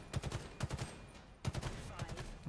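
Rapid automatic gunfire in the Halo Infinite first-person shooter, two tight bursts of fast shots separated by a short pause, loud and close with no talking.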